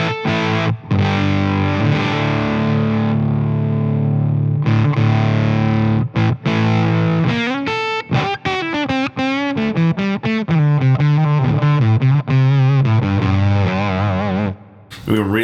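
Electric guitar through a Warm Audio x Dirty Boy Jr fuzz pedal set to position 4 gives a thick, saturated fuzz tone. Sustained chords ring out first, then quicker choppy notes follow, loud and close.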